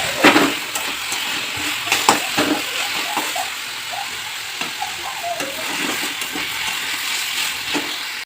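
Leafy greens fry in a pan with a continuous sizzle, broken by intermittent stirring clatters and scrapes of a utensil against the pan, all heard up close.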